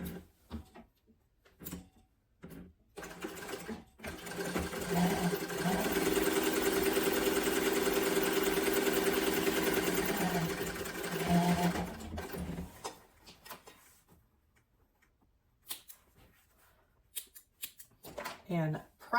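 A sewing machine runs in one long steady burst of stitching, joining the straight edges of sling bag panels, with quieter handling sounds and brief rustles before and after it.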